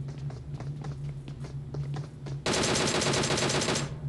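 Gunfire in the mobile shooter PUBG Mobile: a loud, rapid burst of automatic rifle fire bursts in midway and rattles on for over a second, after a stretch of quieter footsteps and game ambience.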